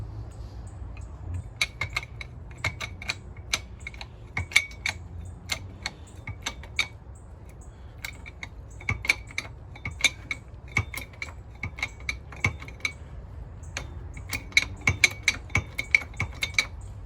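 Socket wrench ratcheting on a Mk3 Volkswagen steering rack: sharp, close metallic clicks in uneven bursts, some rapid runs and some single ticks, over a low background hum with no talk.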